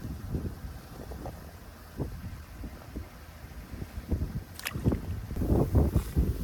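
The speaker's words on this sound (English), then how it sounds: "Guys, it is windy." Gusty wind buffets the microphone with low rumbling bursts that swell and fade, growing stronger toward the end, during freezing-weather panfishing.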